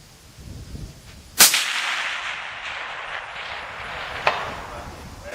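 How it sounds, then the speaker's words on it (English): A single sharp rifle shot from a Sako S20 in 7mm Magnum cracks loudly on an outdoor long-range course, followed by a decaying rumble and a fainter distant report a few seconds later. "I'm gonna go ahead and take one more at that distance."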